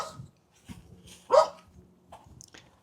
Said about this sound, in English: Dog's barking. Can you hear the dog?